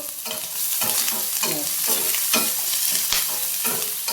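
Onions, green chillies and curry leaves fry with cumin in a pan, a constant close sizzle broken by repeated scraping strokes of a spoon stirring the mixture; no voices are heard.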